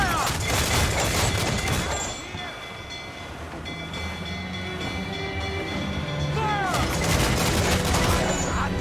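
Ship cannons fire in a naval battle from Assassin's Creed IV Black Flag, a loud rolling barrage of booms and crackling blasts that fades briefly, then surges again, with shouting voices in the mix.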